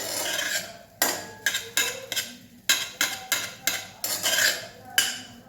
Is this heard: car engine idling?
no